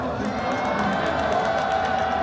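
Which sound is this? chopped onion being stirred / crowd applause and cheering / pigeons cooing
crowd applause and cheering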